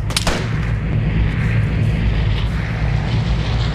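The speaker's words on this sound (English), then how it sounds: "someone shot at me from the rock face" In the survival shooter Vigor, a single sharp gunshot cracks near the start, followed by a sustained loud rumbling roar that persists to the end, with no voices.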